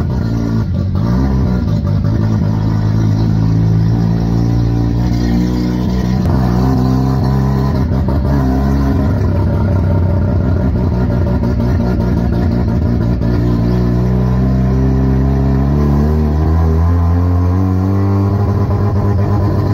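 A Mitsuru Haruguchi Mazda RX-7 driving parade laps on a race track: a loud, close engine drone held throughout, its pitch climbing and easing as the revs rise and fall, with no talking.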